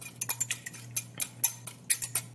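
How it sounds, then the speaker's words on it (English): Eggs being whisked in a pan for breakfast with a utensil, giving a quick run of sharp metallic clinks and scrapes in an irregular rhythm, close and fairly loud, no talking. "Just keep mixing it around."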